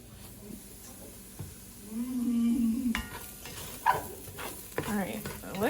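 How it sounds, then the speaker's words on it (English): Food stirred and browning in a pan for a crock pot soup, a soft scraping stir with a low sizzle building midway, then clinks and voices breaking in near the end. "stir it for a few minutes till it browns"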